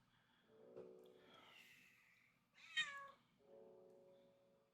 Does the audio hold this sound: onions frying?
no